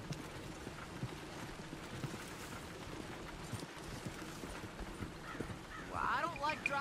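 Horse hooves clopping on a road in Red Dead Redemption 2, a steady, soft rhythmic gait under quiet ambience, with voices talking over it near the end.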